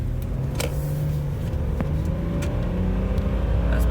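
Car engine with a Stage 2 5EAT drive-by-wire tune accelerates at about half throttle, revs climbing smoothly with a brief dip at a gear change, close and steady with no talking.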